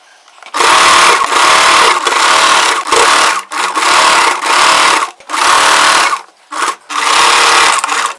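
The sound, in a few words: sewing machine stitching chudidar frill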